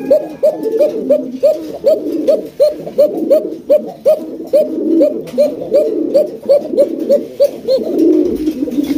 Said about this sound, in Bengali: দেখেন কত সুন্দর একজোড়া কাকা কবুতর ডাকাডাকি করতেছে, এখনো পর্যন্ত ডাকতেছে